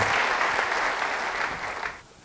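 Church congregation clapping in praise during a Passover sermon, a broad sustained wash of hands that holds steady and then tapers off near the end.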